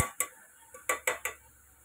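A spoon clinks against a cooker pot while vegetable masala rice with cauliflower, onion, tomato and chilli is stirred, giving six or so sharp, separate metallic taps at an uneven pace, close and quiet otherwise.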